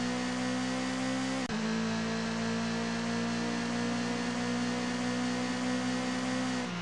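Race cars in TOCA World Touring Cars on the PlayStation, a loud sustained engine drone with steady whirring tones and a brief shift midway, continuing without pause, no voices.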